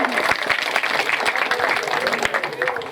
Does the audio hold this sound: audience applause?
yes